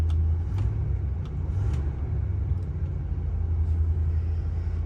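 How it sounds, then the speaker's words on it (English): A 1973 Oldsmobile Cutlass rocket V8 on a cold fast idle gives a steady, deep low rumble, close and even throughout with no talking. "we gotta start it up so you can hear the rocket V8"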